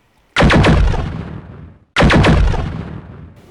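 Two heavy, booming cannon shots, evenly spaced and loud, each with a rumbling decay, fired from a giant mech's huge arm cannon at an Atlas in an Alpha Strike BattleTech battle.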